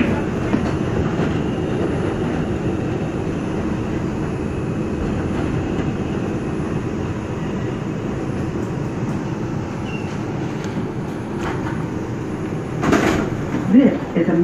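Rumbling R142 subway car on a Manhattan-bound 2 train running between stations, a steady loud roar of wheels and motors with faint clatter, a brief louder burst of squeal near the end, no voices.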